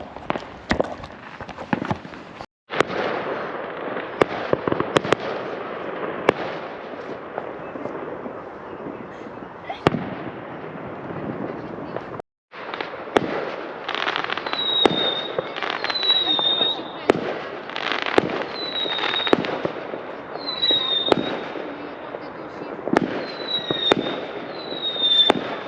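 Bonfire Night fireworks bursting over Stockbrook Park in Derby, UK, with repeated sharp bangs and crackling volleys, some distant and some close, plus whistling rockets in the later part, under ongoing outdoor crowd noise and someone talking.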